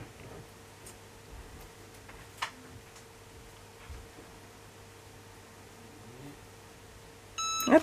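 A Cricut EasyPress 2 heat press gives a short burst of electronic beeps at the very end, after several seconds of quiet room hum broken by faint ticks and clicks.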